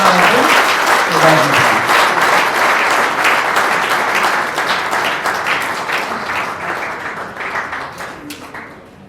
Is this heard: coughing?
no